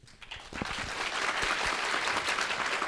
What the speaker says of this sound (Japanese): 松坂さんの隣でこんなに拍手で迎えられて嬉しいです